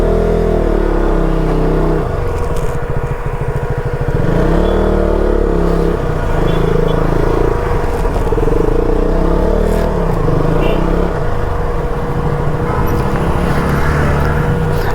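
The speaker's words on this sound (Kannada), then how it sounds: "ಬೈಕ್ ಹಾಕಿ ಬರ್ತೀನಿ." A loaded touring motorcycle's engine runs close by as it is ridden slowly to a parking spot, the loud steady drone rising and falling with throttle changes and faint clatter.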